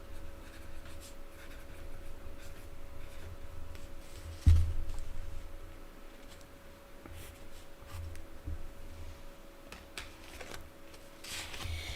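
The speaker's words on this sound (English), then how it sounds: "I'm going to write that." Faint, steady scratching of a pen moving across paper as someone writes by hand in a quiet room, with one soft bump partway through.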